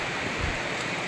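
A brief burst of heavy rain from a low-pressure storm, a thick, even roar of downpour with no voices.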